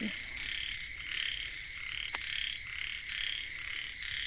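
Frogs croak in a dense, pulsing chorus, their rhythmic calls overlapping steadily with no talking.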